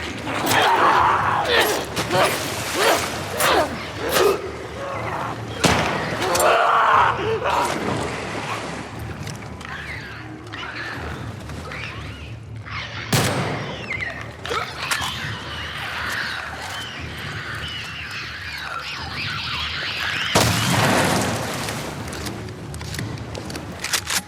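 Gunfire and explosions in The Last of Us Part II ring out as repeated sharp bursts and booms across a stretch of combat, with a voice speaking over the action at times.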